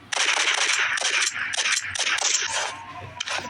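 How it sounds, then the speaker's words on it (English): Rapid gunfire from the Roblox game Rivals while reload is spammed mid-shooting, a dense string of close, loud bursts with short pauses between volleys. "spam reload while shooting"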